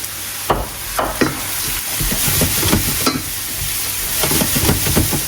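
Chopped garlic sizzles steadily in a hot frying pan, with several sharp scraping clicks of a utensil stirring it, loud and close throughout.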